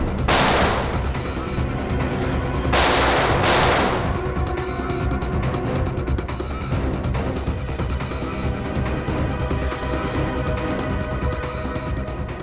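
A shootout in a CID TV crime drama fills the scene with a dense, continuous clatter of rapid gunfire and booming shots, loud and sustained, with two heavier blasts standing out near the start.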